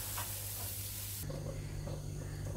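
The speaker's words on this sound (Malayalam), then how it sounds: "തേങ്ങ ആദ്യം ഒന്ന് വറുത്ത് എടുക്കണം" Grated coconut roasts in a pan, giving a quiet, continuous sizzle with soft scraping as it is stirred, heard alone without talk.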